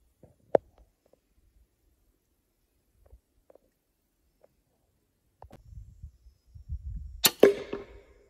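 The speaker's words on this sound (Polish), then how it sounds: "To jest strzała, którą strzeliłem w sklejkę, taką grubą." Quiet handling clicks and a low rumble, then a single sharp, loud crack of a crossbow bolt slamming into 19 mm thick plywood near the end.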